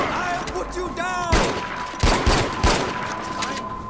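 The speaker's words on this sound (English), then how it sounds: "Was that a gunshot?" Bursts of rapid gunfire crack through a video game level, with loud volleys arriving in clusters while a voice shouts over the shooting.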